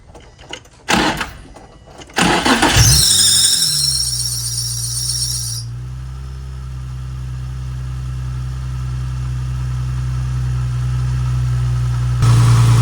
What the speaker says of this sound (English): I think we're gonna start the car and see what's up.